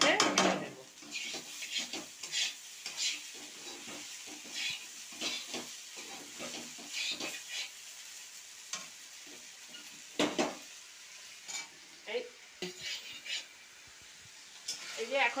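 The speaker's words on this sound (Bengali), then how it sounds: "সয়াবিনটা দিয়ে এই যে সয়াবিন আর আলু বেশ ভালো করে কষিয়ে নেব।" Soybean chunks and potato being stir-fried together in a pan produce a soft sizzle under repeated scraping and clinking of a spatula against the pan, with quiet talk nearby.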